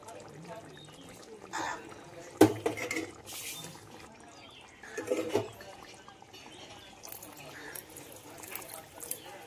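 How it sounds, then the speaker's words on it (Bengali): Water poured into a pot of browned chicken curry meat comes in a few short, splashing bursts with quieter gaps between them, set against a low kitchen background. "মাংসগুলোর মধ্যে পরিমাণ মতো জল দিয়ে দিচ্ছি।"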